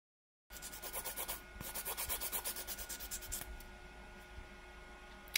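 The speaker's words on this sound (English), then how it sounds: "Just gonna keep filing this one." An acrylic nail tip is filed with quick, rhythmic back-and-forth rasping strokes, close and fairly quiet, trailing off near the end.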